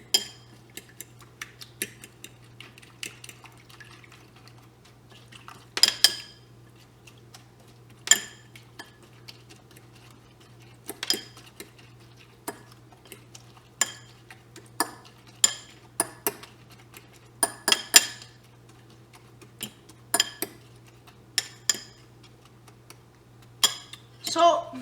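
A utensil whisking eggs with salt and white pepper in a bowl gives bursts of light metallic clinks and taps, close by over a low steady hum.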